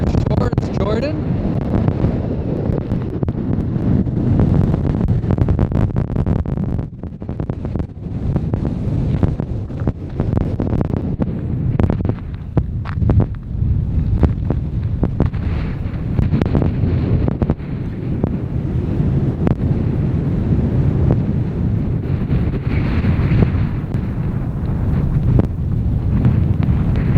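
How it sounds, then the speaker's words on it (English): Strong wind on a seashore buffets and roars across the microphone throughout, a constant heavy rumble with gusty surges. "Man, it is really windy."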